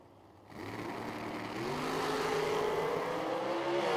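A dragster at the Lone Star Summer Shootout drag racing event roars off on a run, with engine noise that jumps up suddenly and builds into a sustained, loud, rising drone.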